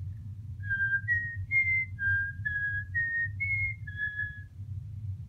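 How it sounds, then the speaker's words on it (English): A whistled tune of Frère Jacques used as a warning signal, short clear melodic notes rising and falling over a steady low rumble of background noise, fairly close and moderately loud. "the warning signal will be whistling Frère Jacques"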